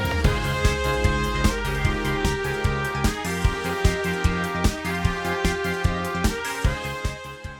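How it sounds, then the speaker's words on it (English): A game soundtrack switches its beat, bringing in brass and organ over a pulsing rhythm with regular punchy accents. The dense, loud mix is sustained throughout. "add in some organ, and it should sound like this."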